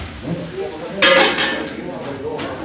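Pots and utensils clink and clatter in a large kitchen inside an underground cave home in Tunisia as a meal is cooked, with a loud burst of metallic clanging in the middle and quieter rattles around it.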